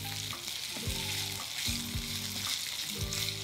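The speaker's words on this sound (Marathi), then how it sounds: "हा ठेचा छान परतून झाला की यामध्ये उकडलेल्या बटाट्याच्या फोडी घालायच्या, परतून घ्यायचं आहे." Boiled potato pieces sizzle as they are sautéed in thecha in a pan, with steady frying hiss and a regular rhythm of stirring scrapes, a soft musical tone running beneath.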